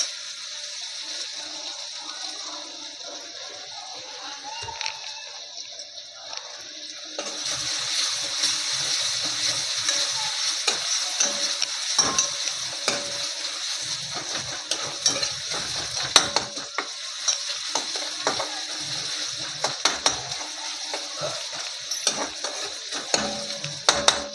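Onion frying in a pan for a moong dal and fenugreek leaf dish, a steady close sizzle that grows louder partway through, broken by frequent spoon scrapes and clinks as it is stirred.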